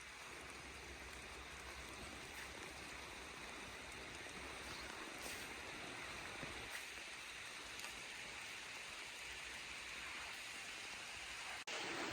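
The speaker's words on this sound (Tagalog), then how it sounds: "Malakas ang ulan." Dense, even hiss of heavy rain falling continuously on surfaces nearby in a tomato garden, a steady wash of sound with no voices.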